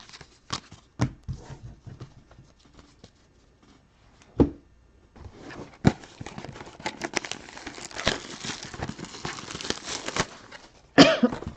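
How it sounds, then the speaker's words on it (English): A man coughs twice, sharp and close, near the middle of the recording, amid crinkling and rustling of packs and cards at a baseball card break, with other handling noises before and after. "I did cough into my elbow"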